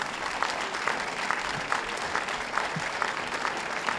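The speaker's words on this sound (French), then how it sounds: "sous vos applaudissements" An audience at a closing conference session breaks into steady applause, a dense patter of many hands clapping at moderate distance, continuous for the full few seconds.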